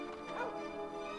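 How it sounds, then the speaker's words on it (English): Dog barking in the video game Dragon Quest VIII, a short faint yappy bark or whine heard once amid low game background sound. "Dog."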